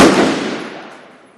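A loud rifle report from a box target scope test, caught as the decaying tail of a shot that fades steadily over more than a second, with no talking.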